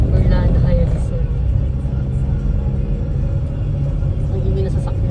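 A noisy car being driven on a first driving lesson, with a steady low engine and road rumble running throughout and a voice talking over it.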